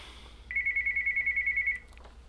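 A telephone rings with an incoming call, a rapid warbling electronic trill lasting just over a second, moderately loud against a quiet room.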